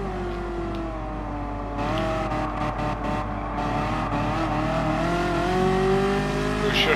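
Ferrari F40 engine in the video game Gran Turismo Sport, a steady droning rumble that rises gradually in pitch and loudness as the car accelerates, with some clicks of shifting.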